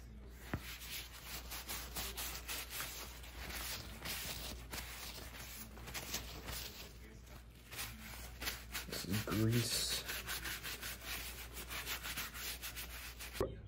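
Wiping grime off a mini split air conditioner's blower wheel with cleaning wipes, a steady close rubbing and scrubbing that continues under a man's speech, with a few handling knocks.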